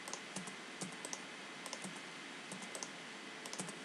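Quick, light keyboard taps entering a command in AutoCAD, a dozen or so faint close clicks in an irregular rhythm over a soft background hiss.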